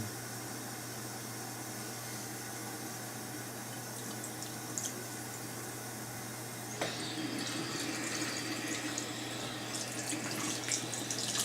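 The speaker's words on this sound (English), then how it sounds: "Washing my hands 3 times, making sure the water reaches between my fingers, all over the hands." Hands being washed under a running tap, a steady hiss of flowing water that turns splashier and more broken partway through as the hands move in the stream.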